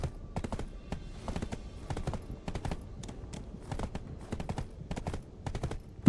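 Steady clip-clop of horse hooves in a video game at a brisk gait, repeating rhythmically and fairly close, with no talking over it.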